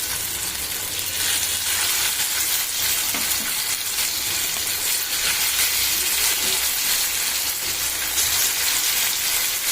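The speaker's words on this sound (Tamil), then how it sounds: "எண்ணெய் நல்லா காஞ்சிருச்சு நம்ம ஒரு ஒரு ஸ்டிக்காக எடுத்து அடுக்கிடலாம்" Skewers frying in hot oil in a kadai, a loud, continuous bubbling sizzle with a dense hiss that holds steady throughout, with no talk.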